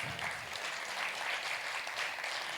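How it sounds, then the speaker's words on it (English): An audience at a jazz music intensive event claps steadily in a room, a dense even patter that is moderately quiet and holds without a break. "You can clap for that."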